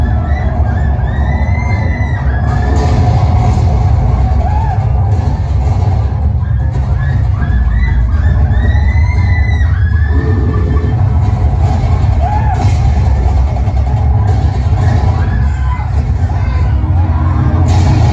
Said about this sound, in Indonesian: Dengan kedatangan Belanda, rakyat Bali ketakutan dan berteriak histeris.